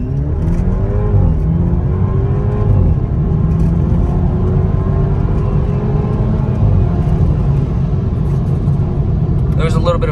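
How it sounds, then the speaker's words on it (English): A BMW E30 with a stage 2 tuned N26 engine accelerates hard from a standstill, its loud, close engine drone climbing steadily in pitch through the gears for about ten seconds. "I just brake traction hardcore"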